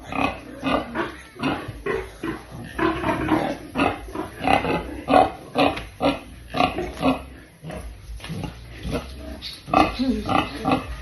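A pig grunts while being scratched, giving a close, steady run of rough grunts and snorts that continues throughout without a break.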